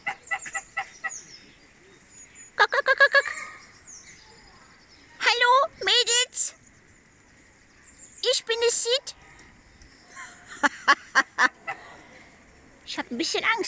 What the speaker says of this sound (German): Lauter Gänse.